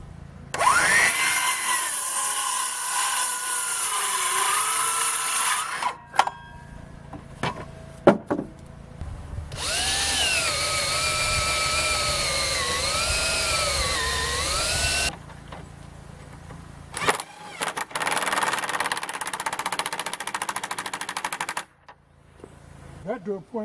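A DeWalt cordless power tool drives into 2x4 lumber with carriage bolts, whining in long sustained runs of several seconds, its pitch rising and dipping under load, with clunks and handling noises between runs.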